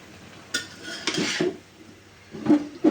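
Pumpkin leaves and dried fish stirred in a pan, giving a few separate scraping and clattering bursts of utensil against metal with quiet gaps between them, close and moderately loud, with no talking.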